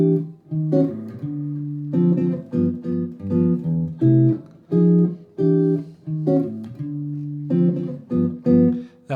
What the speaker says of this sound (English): that's the sound of the turnaround